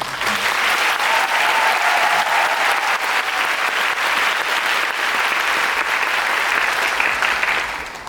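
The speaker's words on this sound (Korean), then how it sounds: "박수 한번." Sustained, dense applause from a large audience at the final-performance curtain call of the musical Aida, even and loud throughout before tapering slightly at the end.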